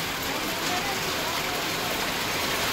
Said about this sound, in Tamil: மழை பாருங்கள் எப்படி பெஞ்சிட்ருக்குதுன்னு